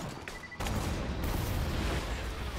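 A sudden burst of loud, crackling blasts from enemies self-destructing in Borderlands 2 erupts and keeps rumbling, like a chain of explosions, filling the sound with dense noise.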